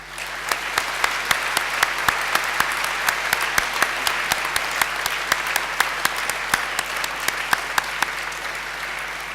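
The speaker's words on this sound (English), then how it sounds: "give them a mighty round of applause" Graduates at a ceremony give their families and friends a long, loud round of applause, dense clapping with sharp individual claps standing out close by.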